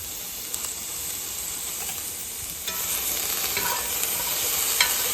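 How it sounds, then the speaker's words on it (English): Peppers sauté in a skillet in oil rendered from ground beef, giving a steady, close sizzling hiss with occasional stirring scrapes and small pops throughout. "there's enough oil in here from the ground beef to help saute these vegetables"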